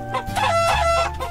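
A chicken in an indie video game clucks loudly and close up in a quick, rapid burst of squawking calls.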